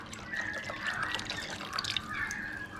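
Water pours from a can into a pot of coconut milk for a spicy South Indian mussel curry, a close, continuous trickling and dribbling stream lasting a few seconds without speech.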